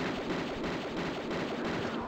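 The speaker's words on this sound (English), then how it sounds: "Shoot them, Lara, while you can." Gunfire in Tomb Raider II as Lara shoots leopards in the Tibetan catacombs: a dense, steady barrage of game weapon shots rattling on without pause, loud and close, with no voices over it.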